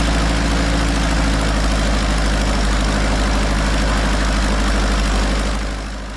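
Seaplane engine roaring steadily and loud while step taxiing on its floats across water, a constant propeller drone with low-frequency throb that eases slightly at the very end.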